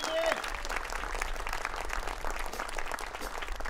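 A concert crowd applauds as a band's drummer is introduced on stage, a steady wash of clapping lasting a few seconds with a brief tonal sound near the start.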